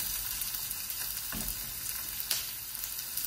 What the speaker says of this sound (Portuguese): Vou saltear aqui um pouco a cebola